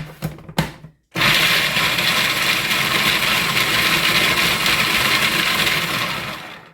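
A food processor chops wild garlic and almonds for pesto, its motor starting after a couple of short clunks and then running as a loud, steady whir for about five and a half seconds.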